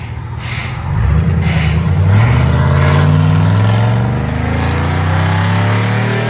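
A 2005 Cadillac Escalade's 6.0L V8 with true dual straight-pipe exhaust, loud and close, settles into a deep idle and then swells into a long rumbling rev that holds before easing back.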